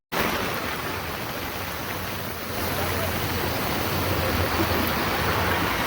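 Floodwater rushes across a village highway in a steady, broadband roar like heavy surf, continuous and close throughout, slightly swelling partway through with no voices standing out.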